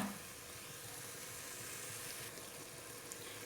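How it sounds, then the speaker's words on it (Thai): Beef sizzles steadily as it is stir-fried in a pan for a Thai beef and pumpkin curry, a faint, even hiss of frying fat with small crackles running throughout. "ผัดให้ เนื้อมันสะดุ้งไฟหน่อย ให้มันสุกสัก ห้าสิบเปอร์เซ็นต"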